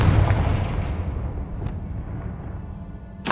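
A Confringo spell blast in Hogwarts Legacy lands as a loud booming explosion that rumbles and fades over a few seconds, followed by a sharp burst at the end.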